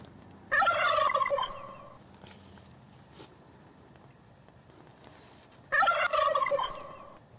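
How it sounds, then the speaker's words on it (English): A big wild turkey gobbler gobbles twice from its roost in the trees, each call a loud, rattling burst separated by several seconds of quiet woodland. "We soon hear a big gobbler on the roost in the trees behind our decoy."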